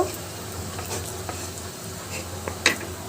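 Onions fry softly in a pan for hilsa bharta, a steady close sizzle with occasional stirring scrapes and a sharp utensil clink near the end, no talk.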